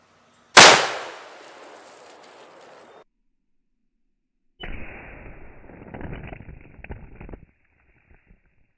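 A single sharp, loud hunting rifle shot cracks out at water-filled milk jugs and echoes away over a few seconds. After a pause comes a stretch of rustling, scraping handling noise, with no voices.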